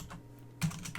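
Keystrokes on a computer keyboard entering a router EIGRP configuration command, a few soft clicks followed by a louder burst of taps near the end, close and alone.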